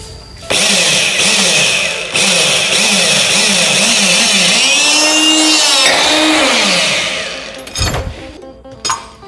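Power drill boring into a steel plate for a custom minibike build, a loud close whining grind with pulsing motor pitch that rises and falls, then cuts out and gives way to a few clanks and rattles.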